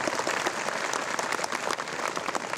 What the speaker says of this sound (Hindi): हम लोग एक बार जोर से ताली बजा दें उनके लिए